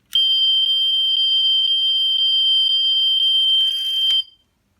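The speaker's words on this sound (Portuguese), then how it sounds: "tem som de alarme." A steady electronic alarm tone from a battery-powered toy Tesla Model X 90 2020 model car sounds loudly and continuously for about four seconds. It carries faint rhythmic pulses, rises into a brief buzz near the end, then stops abruptly.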